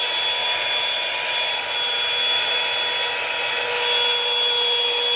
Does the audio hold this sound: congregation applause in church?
no